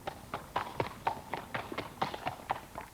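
Horse hooves clopping on a canal towpath at a steady walking rhythm, with a run of moderately close, regular footfalls carrying on throughout.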